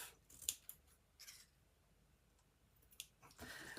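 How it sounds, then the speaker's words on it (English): Scissors snip through craft ribbon to trim a bow, a few short, crisp, close cuts spaced out over a few seconds in an otherwise quiet room. "Get my scissors, and just chop a bit off."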